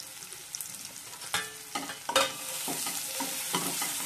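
Curry leaves and turmeric powder stirred in hot oil for rasam, a steady sizzle with repeated scraping strokes of a spoon against the pan, growing louder partway through, close by with no voices.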